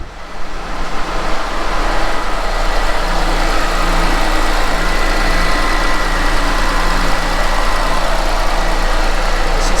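A 2006 Chevy Malibu Maxx engine idles steadily in a garage, a continuous low mechanical hum with a constant drone, loud and close, with no talking over it.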